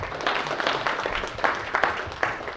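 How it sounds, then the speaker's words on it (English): A small audience claps for event sponsors in a short, uneven burst of applause with scattered individual claps, fairly close and moderately loud. "Can we give them a little round of applause?"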